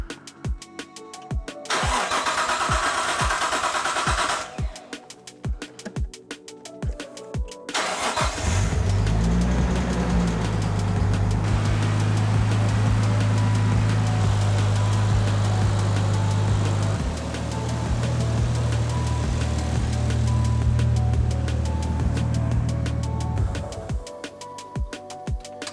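Nissan Skyline R32 engine, just topped up with oil, cranks through a couple of starter bursts, then fires and settles into a loud, steady idle with a brief revving change midway before cutting out.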